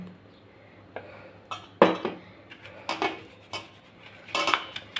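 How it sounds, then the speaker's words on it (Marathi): Maida flour is sifted through a fine metal sieve for veg Manchurian, giving light, irregular metallic taps and clinks against a bowl with soft rustling between them. "आता मी एक वाटी मैदा घेतलेला आहे आता हा मी गाळून घेणार आहे"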